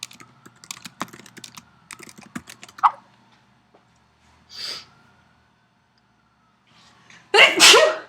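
A single sharp sneeze indoors, near and loud, following a stretch of computer keyboard typing, with a brief snort or breath in between.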